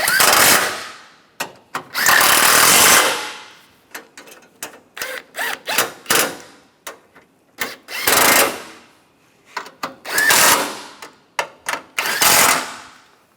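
Bolts on a 2010-2016 Cadillac SRX are tightened during radiator replacement with a power tool, in loud, close bursts of whirring and rattling that last up to a couple of seconds, mixed with shorter clicks and ratcheting between them.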